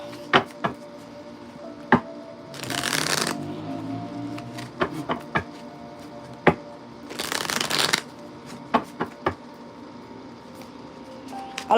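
Tarot cards are riffle-shuffled close by in two brisk bursts, with scattered sharp taps and flicks of cards being handled and laid down between them in a quiet room.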